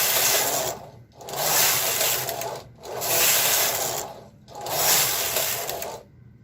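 A Singer punch card sewing machine runs steadily in four sustained bursts separated by brief pauses, its close, loud whirring motor and needle clatter filling each pass without any talk.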